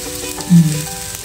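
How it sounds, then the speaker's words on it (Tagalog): Chili garlic fried rice stirred in a hot pan, a steady close sizzle with one brief louder scrape of the spatula partway through. "So, i-mix lang natin hanggang sa well combine talaga yung ating sahog."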